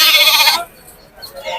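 Sheep bleating at a crowded livestock market, a dense run of loud overlapping calls for about half a second, then quieter crowd murmur with a few fainter bleats.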